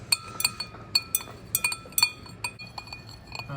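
A spoon stirs liquid in a glass container during a snack-burning calorimetry test, tapping the glass in quick, irregular bright clinks, close and fairly quiet.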